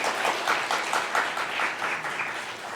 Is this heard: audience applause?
yes